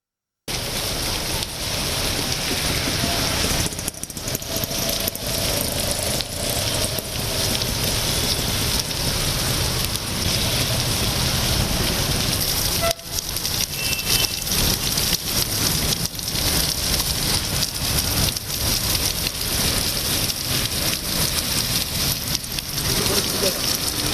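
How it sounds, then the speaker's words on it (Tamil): Heavy night rain with strong gusting wind lashes Chennai, a loud, unbroken roar of downpour that surges and dips over a long stretch. "பலத்த சூறை காற்றுடன் கூடிய கனமழை பெய்தது"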